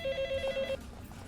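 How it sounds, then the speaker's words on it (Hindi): An office telephone rings in a rapid repeating electronic trill that stops after under a second, followed by quiet room tone. "सुनो दालियांग, वो फोन पिकअप करना।"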